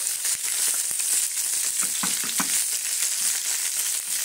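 Pigeon frying in ghee in a pan gives a steady, dense sizzle with scattered crackles and small pops, loud and continuous without voices.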